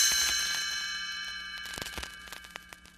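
Chimes ring once as a page-turn cue for a read-along book, a bright metallic shimmer that rings and slowly fades, followed by a few light taps and clinks.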